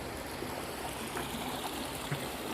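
A small stream flows through swampy woodland along the Midstate Trail in Douglas State Forest, Massachusetts, a faint, steady trickle and gurgle with no talk.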